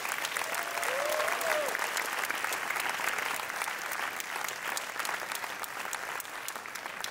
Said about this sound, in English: Can we give a huge round of applause?